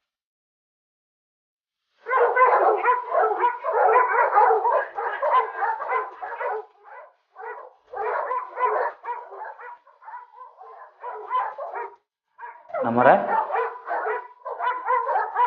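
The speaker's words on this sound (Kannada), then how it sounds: "ನಾಯಿಗಳು ಯಾಕೆ ಹಿಂಗೆ ಬೊಗಳ್ತಾವೆ?" Several dogs bark loudly and persistently at night in rapid overlapping bursts, with yips and a brief whimper, after a silent opening; a voice briefly speaks amid the barking.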